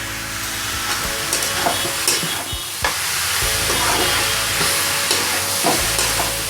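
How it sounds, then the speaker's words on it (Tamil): Chicken pieces with chopped garlic frying in oil for Pallipalayam chicken, a close, steady sizzle with repeated scraping stirs of a utensil against the pan. "ஒரு 5 நிமிஷம் நல்லா அப்படியே இதுலேயே எண்ணெயிலே நல்லா வேகட்டும்."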